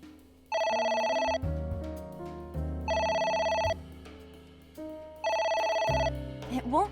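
An old-style telephone bell rings in three long bursts with short pauses between them inside the video game AI: The Somnium Files, loud and close over a background music bed.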